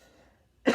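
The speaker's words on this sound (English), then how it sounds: "I started to cough in my hand" A single person coughs into a hand, one short, sharp, close cough that bursts out abruptly after near-silence and trails off briefly.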